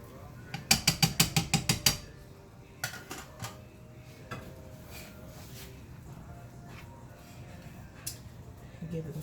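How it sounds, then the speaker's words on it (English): Fresh Parmesan cheese is grated by hand in a kitchen: a quick run of about eight sharp, evenly spaced rasping strokes, then a few scattered scrapes and clinks over low room noise. "I'm grating some fresh Parmesan cheese in here"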